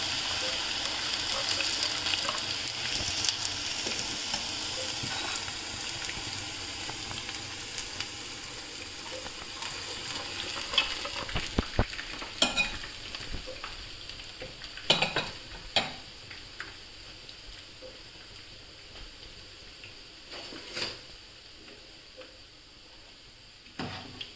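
Kara boondi made from gram flour batter fries in hot oil over a medium flame, a steady close sizzle with scattered sharp crackles and pops from drops hitting the oil.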